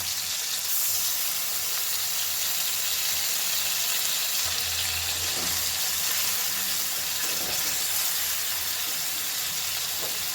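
Steady, fairly loud sizzling of ginger paste frying in a hot pan with tomatoes, a continuous crackling hiss with a few faint clinks and scrapes.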